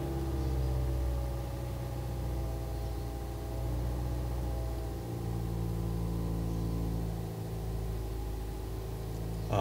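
A car engine running steadily after being started on a revived, fully dead battery, a loud continuous mid-pitched hum with two brief dips in the middle, no voices.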